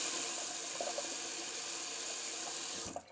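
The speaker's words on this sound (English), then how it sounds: "Just wanted to rinse that brush out real quick" A shaving brush is rinsed under a running tap, giving a steady hiss of water splashing into a sink that cuts off near the end.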